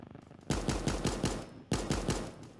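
Rapid gunfire in a battle royale video game: two bursts of about five sharp, punchy shots each, fired at a steady quick rhythm and fairly close, with no talk over them.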